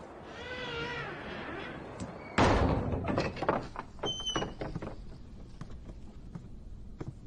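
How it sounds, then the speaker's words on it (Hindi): A heavy door thuds shut with a sharp, loud impact, followed by a few rattling knocks and faint creaks fading out after a period of low background sound. "दरवाजा बंद करो।"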